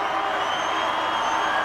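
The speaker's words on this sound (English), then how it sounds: "Well, the crowd are well pleased with that decision." A crowd at a 2004 rugby match between the All Blacks and the Pacific Islanders in Albany roars and cheers in a dense, continuous wash of noise filling the stadium.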